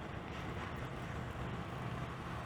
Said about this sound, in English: Pretty decent wind up there.